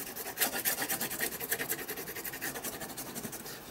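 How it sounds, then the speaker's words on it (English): Neocolor wax crayons scrub back and forth over watercolour cardstock in quick, close, rhythmic rasping strokes, a soft scratchy rubbing that repeats steadily throughout. "I'm going to take my neo colours and I'm just going to randomly rub"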